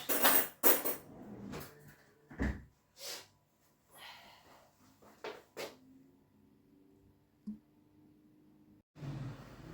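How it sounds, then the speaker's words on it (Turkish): Scattered clinks and clatters of dishes and metal pots being unloaded from a dishwasher and set down, with quiet pauses between, close by. "bulaşık makinesini boşalttım"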